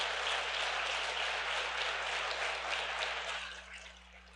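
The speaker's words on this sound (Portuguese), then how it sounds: "Você pode aplaudir o Senhor então?" Church congregation at a couples' service applauding, a steady dense wash of clapping that holds strong and then thins out toward the end, with a low electrical hum underneath.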